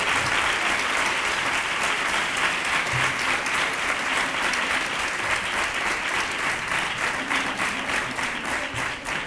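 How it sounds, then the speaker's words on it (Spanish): A crowd claps strongly and continuously for the Three Kings and the star children at the Epiphany parade proclamation in Nerva, a steady wash of applause with no break. "Fuerte el aplauso para ellos."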